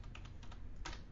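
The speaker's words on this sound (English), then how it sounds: "So I'm going to start it off by typing" A computer keyboard gives a quick, faint run of several light key clicks, as if entering a spreadsheet formula, heard close up with no voices.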